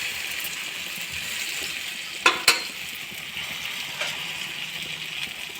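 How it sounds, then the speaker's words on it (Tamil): Okra (lady's finger) frying in a pan gives a steady, soft crackling sizzle, with a couple of sharp clinks from stirring near the middle, close and with no talk. "நல்லா இது மாதிரி ஃப்ரை ஆகிட்டாங்க."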